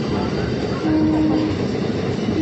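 Inside a moving, crowded train, a steady loud rumble of the carriage with a faint high squeal of wheels partway through, continuous and close throughout.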